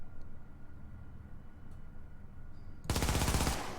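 An MP7 submachine gun in The Division opens up with a sustained, rapid, loud automatic burst after a stretch of low ambient hum, firing steadily to the end.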